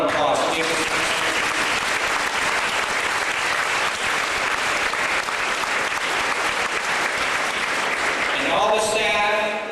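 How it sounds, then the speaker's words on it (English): A large audience applauding in a hall, dense and continuous clapping holding steady for nearly ten seconds before a voice speaks at the end. "Please give them a round of applause."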